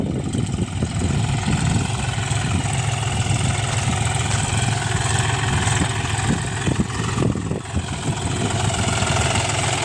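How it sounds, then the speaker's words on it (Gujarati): A John Deere tractor runs steadily while ploughing between rows of a sesame field, its engine a continuous mid-low drone at moderate distance, alone without talk. "તો આપણું ટ્રેક્ટર ચાલે છે જોન ડિયર ત્રીજા લોની અંદર"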